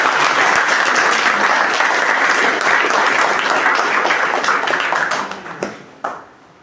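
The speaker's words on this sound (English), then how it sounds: "So let's all give us one more loud round of applause" A loud round of audience applause at a career guidance workshop keeps up steadily for over five seconds before thinning out into a few last claps.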